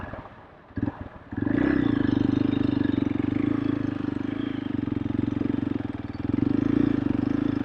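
An Xpulse 200 motorcycle pulls in fifth gear, its single-cylinder engine holding a steady, buzzy drone close to the rider that swells slightly louder near the end.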